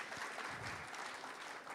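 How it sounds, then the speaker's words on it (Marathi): A crowd at an award ceremony honouring an elder gives loud, steady, sustained applause, a continuous roar of many hands clapping throughout. "जोरदार टाळ्या होऊन जाऊ देत दादांसाठी"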